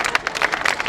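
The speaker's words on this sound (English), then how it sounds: "Let's give her a big round of applause." An audience applauds a grade 7 student speaker at a community values walk event in Toronto, a brief burst of moderately loud, dense clapping.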